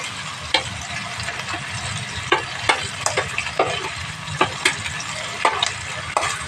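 Meat frying in a pan with liver, a steady loud sizzle broken by repeated sharp clicks of a utensil stirring and scraping, close and without talk.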